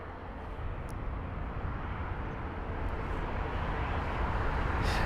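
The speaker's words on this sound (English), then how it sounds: "We've got the Virgin Atlantic 350 1000 off to Los Angeles LAX" Virgin Atlantic Airbus A350-1000 departing Heathrow for Los Angeles, a broad steady jet roar that swells slightly toward the end, heard from a distance without talk.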